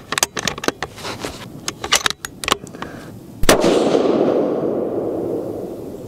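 A Bergara Wilderness HMR rifle in .308 Winchester fires a single loud, sharp shot after a run of clicks and handling noises, followed by a long fading rumble outdoors; no one speaks.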